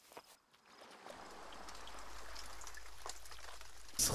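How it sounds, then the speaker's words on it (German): Rain falling in The Forest video game, a soft steady hiss of drops building up and holding, faint and distant, with no voices. "Es regnet"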